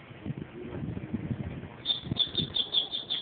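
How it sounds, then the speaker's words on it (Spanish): Small birds chirping in a short, rapid series of high tweets that starts partway through, over low rumbling background noise outdoors. "Ah, los pájaros."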